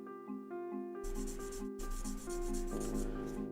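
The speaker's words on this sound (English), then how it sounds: "we're gonna sand some of the nubs here" Steady scratchy rubbing of sandpaper against the nubs on a plastic Gundam EZ8 Master Grade model kit part, starting after a brief pause, with a quiet musical tone running underneath.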